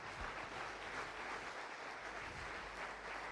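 Audience at a mock tribunal debate on AI clapping together, a steady, sustained round of applause from a room-sized crowd at a faint, distant level.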